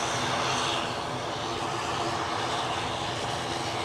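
An aircraft departing Edinburgh for Belfast, a broad continuous engine roar heard from a distance at moderate level, steady throughout with no voices.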